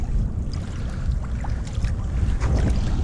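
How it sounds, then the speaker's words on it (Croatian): The bora wind blows moderately in Pula, Croatia, producing a steady low rumble and buffeting against the microphone that swells and eases slightly throughout, with no voices. "Kao što vidite, bura puše."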